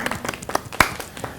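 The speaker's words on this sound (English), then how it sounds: "Another round of applause." A small audience gives a short, sparse round of applause, scattered claps rising to one sharper clap before fading, with a faint voice in the background.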